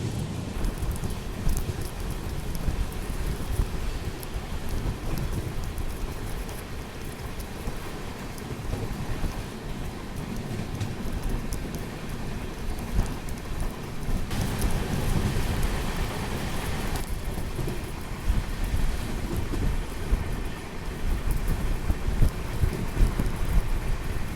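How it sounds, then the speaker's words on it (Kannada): Heavy monsoon rain along the coastal Karnataka railway between Mangaluru and Goa, heard as a steady broadband roar of downpour with low rumbling and wind, continuous and unbroken for the whole stretch with no talking. "ಮತ್ತು ಸ್ಟಾರ್ಟ್ ಆತ ಮಳೆ."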